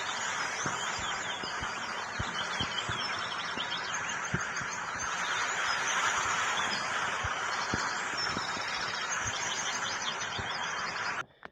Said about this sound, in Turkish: Bin bir türlü kuş sesi geliyor arka plandan.